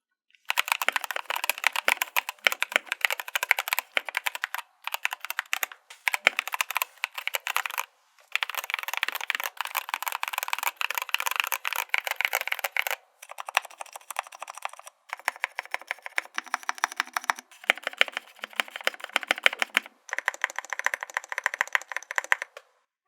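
Mechanical keyboard typing on stock, unlubed Gateron Yellow Milky Top switches with MT3 keycaps, a steady stream of bright, clacky keystrokes in quick bursts with a few short pauses, close and clear.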